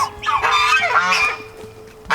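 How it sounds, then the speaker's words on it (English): Baby Emden geese on a farm honking, a rapid run of high, nasal calls that overlap and tail off, close and loud, with a steady low background hum beneath. "the cutest out of all of the baby geese"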